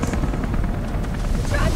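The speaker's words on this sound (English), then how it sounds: "Take the chopper down! Oh, the chopper!" Loud, dense rotor roar of a helicopter in the action game Beyond Two Souls, a continuous heavy throbbing rumble close by, with no voices over it.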